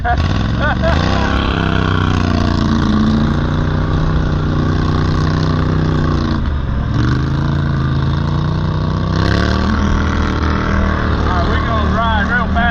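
A Can-Am 450 XMR ATV engine running steadily while riding on a trail in high range two-wheel drive, loud continuous drone with shifting pitch and brief revs, close to the rider.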